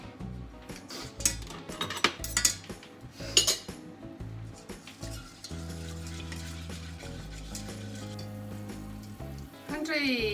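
Custard for pastel de nata stirred in a pot, a utensil clinking and scraping against the metal in irregular bursts, then quieter steady stirring, with music playing underneath.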